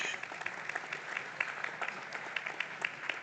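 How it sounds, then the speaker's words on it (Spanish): Faint, scattered clapping from a small audience at a cultural forum on science and belief, thin and uneven throughout with no voices on top. "Un cuarto aplaude."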